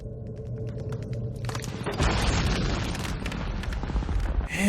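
Dense, rumbling booms and crackling bursts of gunfire from the war film Saving Private Ryan (1998) overlap in a continuous chaotic battle din, growing louder and heavier partway through.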